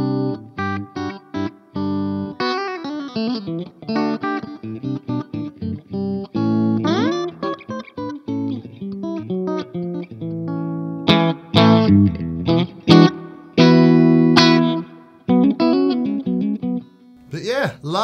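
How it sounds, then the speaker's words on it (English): Electric guitar played through a Laney Lionheart Foundry Super 60 1x12 combo with a Secret Path reverb pedal, giving a wet, lush tone; picked chords and single-note runs ring out continuously for the full stretch, loud and up front. "that reverb is from a Secret Path pedal, and it's lovely."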